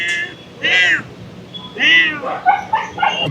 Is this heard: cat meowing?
yes